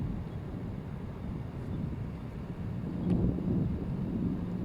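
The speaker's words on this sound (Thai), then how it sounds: "เคพัดลมพัดลมหมุนอยู่นะครับ" A Tsunami Protector TSS-7000 CPU cooler fan spins steadily, giving a continuous low whooshing airflow that swells slightly near the end.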